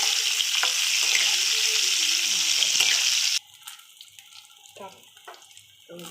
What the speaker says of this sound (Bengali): তো বেগুনগুলো ভাজা হয়ে গেছে,